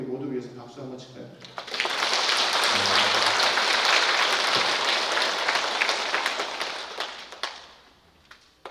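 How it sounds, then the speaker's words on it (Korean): A church congregation claps together during a Catholic Mass for the Ascension. A voice speaks first, then a loud, sustained burst of applause swells for several seconds and fades out. "같이 노력하고 있는 우리 모두 위해서 박수 한번 칠까요?"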